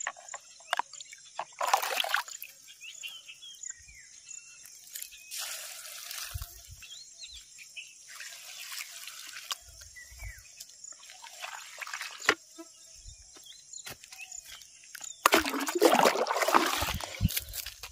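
Irregular splashes and trickles of water soak ridge gourd, bitter gourd and okra plants in a vegetable field. Bursts of pouring come and go over a quiet outdoor background.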